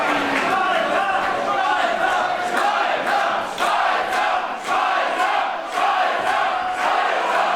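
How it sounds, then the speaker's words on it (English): A live wrestling audience at an independent show roars steadily, with rhythmic rising surges of cheering and chanting that fill the hall, loud and continuous. "Listen to the crowd, some support here for Pascal Spalter."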